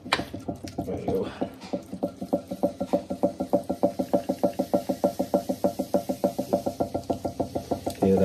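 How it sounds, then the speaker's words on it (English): Steady rhythmic knocking from a spinning pottery wheel with a worn pinhole, used for throwing and trimming clay canisters, repeating quickly and evenly at close range with no talk over it. "Hear that little knocking, that's that pinhole, so I may have to re-drill this back soon."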